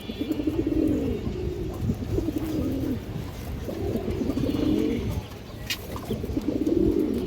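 Pigeons of old Khoyra-gala and similar fancy lines coo in repeated low, rolling phrases close by, several bursts in succession with short pauses between.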